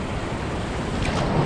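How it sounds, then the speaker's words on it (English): Strong ocean surf crashes on a beach in a steady, loud roar with gusty wind noise buffeting the microphone. "the waves are no joke today"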